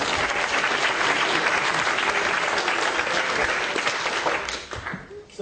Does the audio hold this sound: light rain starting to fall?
no